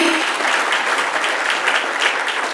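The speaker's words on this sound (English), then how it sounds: "a round of applause for Carolina with Collective Marquee" Steady, dense applause from a conference audience at a modular housing summit, an even wash of many hands clapping without pause.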